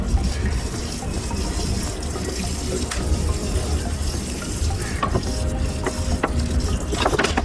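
Water poured onto a potted bougainvillea bonsai, a steady continuous splashing and trickling that runs alone throughout without pause.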